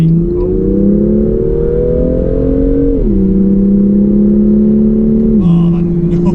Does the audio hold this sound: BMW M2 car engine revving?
yes